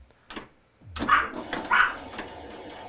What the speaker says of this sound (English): She is the barkiest dog.